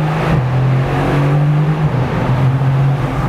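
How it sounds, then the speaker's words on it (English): A 2021 Mercedes-AMG GTR with a center exit and two side exhaust exits accelerates hard in second gear, a loud, close, thumpy exhaust note whose pitch climbs and dips across repeated rising pulls. "This thing has a funky exhaust setup that comes with a center exit as well as two side exits. It sounds incredible. It's really very thumpy and angry."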